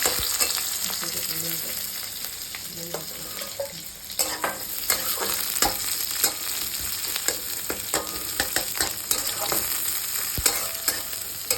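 Chopped onion frying in a pan for a green-banana kofta curry, a steady loud sizzle with scraping stir strokes and clinks of a spatula throughout, no voices.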